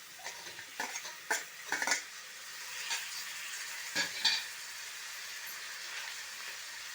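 Chopped tomato fries with onion and ginger-garlic paste for a mutton biryani, giving a quiet sizzle with a few sharp scrapes and taps of a spoon stirring in the pot.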